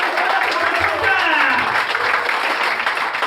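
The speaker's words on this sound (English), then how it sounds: "So start clapping." A comedy club audience applauds a stand-up comedian, a dense, steady wash of clapping that continues throughout at even loudness, with crowd noise mixed in.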